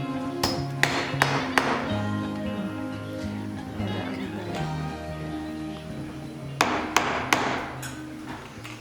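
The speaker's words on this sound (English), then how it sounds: "I just got out my hammer and tightened those nails back up" A hammer tapping nails back into the loose legs of a vintage upholstered chair, sharp close wooden knocks in quick bursts of three or four with a pause between, and a voice speaking softly underneath.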